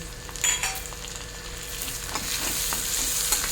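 Sliced tomatoes stirred into hot oil with fried ginger and garlic, a close continuous sizzle with scraping stirs, no talking over it.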